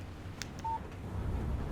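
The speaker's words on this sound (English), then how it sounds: "Text message from Barry." Short electronic phone beeps from a text message alert in the video game Alan Wake, a brief tone over a low background hum.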